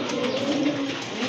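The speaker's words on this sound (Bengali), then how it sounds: "মাশাআল্লাহ, আরো দুইটা কবুতর চলে আসছে, বোম্বাই কবুতর, ব্ল্যাকের ভিতরে কালো বোম্বাই কবুতর।" Black Bombay pigeons coo in a low, throaty, continuous murmur, close and clear, with no talk over it.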